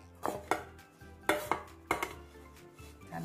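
A freshly baked pandan milk pie is moved onto a plate, giving several sharp clinks and taps of utensil against dish at uneven intervals, close and moderately loud in a quiet kitchen.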